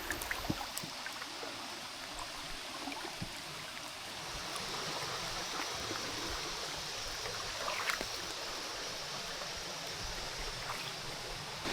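A river flows steadily along a tubing course in Krabi, Thailand, a continuous broadband rush of water with faint splashes and trickles, moderately loud and without speech.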